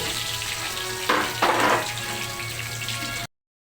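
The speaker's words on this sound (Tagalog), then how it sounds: "umpisa na po natin mag-isa ang bawang sibuyas para maumpisa na natin ang pagluluto ng ating minudo" Garlic and onion sautéing in a pan for menudo give a steady, close frying hiss, with a couple of louder surges of sizzle partway through before cutting off abruptly.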